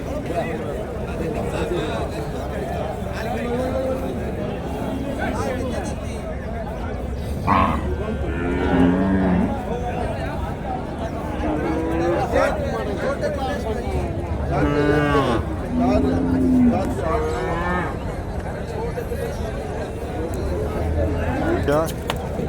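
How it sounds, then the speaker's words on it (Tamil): Cows moo repeatedly at a busy rural cattle market in Tiruppattur district, several long lowing calls rising over constant crowd chatter and nearby talking. "இந்த லைன் ஃபுல்லாக எல்லாம் பசுமாடு தான் இருக்குது"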